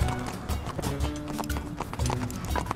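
Hooves of two horses clip-clopping in a steady trotting rhythm on a hard road in a Mr. Bean cartoon, close by, with some rattling of a cart.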